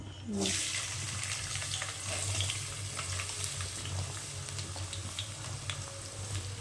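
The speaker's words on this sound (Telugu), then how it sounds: "పచ్చిమిర్చి రెండు రెబ్బలు కరివేపాకు దీన్ని మంచిగా వేయించాలి" Onions, green chilies and curry leaves fry in oil in a kadai, making a continuous dense sizzle heard up close, with a low steady hum running underneath.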